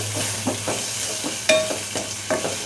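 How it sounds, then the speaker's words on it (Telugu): Ginger garlic paste frying in oil with cooked onions in a pan, a close sizzle broken by a few rhythmic stirring scrapes of a spoon over about three seconds, with no voices. "ఇలా నూనెలోనే ఆయిల్లోనే అల్లం వెల్లుల్లి పేస్ట్ 10 నిమిషాల వరకు మగ్గే వరకు కలుపుదామండి."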